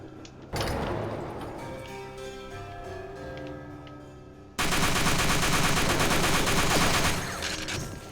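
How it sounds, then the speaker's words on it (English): Sustained automatic gunfire from the video game TimeSplitters 2, dense rapid bursts that start abruptly and then swell into a louder, continuous barrage of shots with no talking over it. "something's shooting me from behind"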